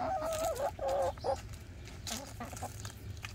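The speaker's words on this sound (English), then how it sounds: "Got a happy chicken." Homestead chickens cluck close by in a run of warbling calls, with softer clucks trailing off afterward.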